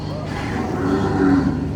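A large cow at a ranch lets out one deep, sustained moo, loud and close, filling the whole moment without any other sound competing.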